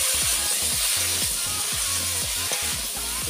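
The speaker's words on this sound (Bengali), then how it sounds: "ফ্রাই করে নিই" Potatoes fry in a pan with a steady bright sizzle, broken by repeated low scraping knocks of a spatula against the pan.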